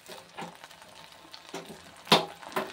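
Chilli idli pieces fry in hot oil, a soft, patchy crackle with a few louder spitting bursts near the end, fairly close and with no talking.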